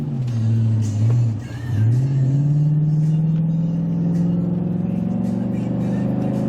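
A 2003 Chevrolet Silverado SS all-wheel-drive truck with about 260,000 miles accelerates hard. Its loud, close engine drone dips briefly, then climbs steadily in pitch through the gears, with no talking.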